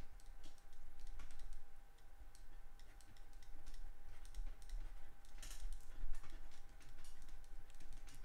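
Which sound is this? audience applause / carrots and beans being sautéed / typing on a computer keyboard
typing on a computer keyboard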